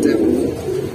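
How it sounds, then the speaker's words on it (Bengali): Giribaz and Pankhi pigeons kept in cages for sale give a low, continuous throaty cooing, fairly close and steady through the second, with a faint murmur in the background. "এগুলো পাঞ্জি ফ্যাটার কবুতর।"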